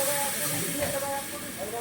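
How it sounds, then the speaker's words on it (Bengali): Water poured into a hot pan of fried magur fish sets off a loud, continuous close-up hiss and sizzle of steam that holds steady across the short moment. "এবার এটা আমার ভাজা হয়ে গেছে, আমি এখন জল দিয়ে দিলাম।"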